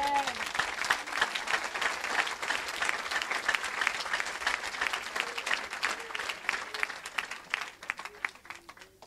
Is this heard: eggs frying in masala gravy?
no